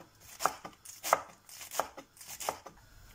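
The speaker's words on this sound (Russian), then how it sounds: "Зелень у меня 120 грамм, и я ее мелко нарежу." A knife finely chops about 120 grams of fresh herbs on a board, with five evenly spaced, crisp close thuds at a slow, steady rhythm.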